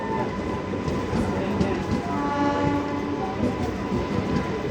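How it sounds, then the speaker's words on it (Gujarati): A MEMU train rumbles steadily past with continuous rolling clatter and a sustained horn-like tone, fairly loud and constant throughout. "दूर दूर से मस्त कैप्चर कर रहे हैं मेमो ट्रेन"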